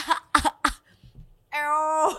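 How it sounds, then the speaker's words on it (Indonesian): Three quick, close coughs in a row from a person, followed by a short pause and a brief higher vocal sound, like a laugh or voiced reaction. "Batuknya biasa aja dong"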